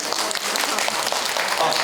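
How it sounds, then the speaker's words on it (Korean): An audience applauds in a lecture hall during a science talk, a short burst of dense, loud clapping from many hands. "자, 박수."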